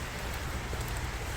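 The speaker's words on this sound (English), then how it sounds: "We're kind of looking at the rain. I think the rain's eased off." Rain falls steadily on surfaces outdoors near a roundabout during a flood warning, a dense, even hiss of drops with no pauses and no voices.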